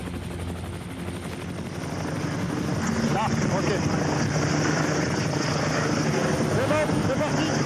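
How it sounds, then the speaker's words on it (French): A rescue helicopter hovers about twenty metres above a ski slope, its loud rotor and engine roar filling the scene steadily while someone briefly speaks over it. "L'hélicoptère s'est stabilisé à une vingtaine de mètres au-dessus de la piste."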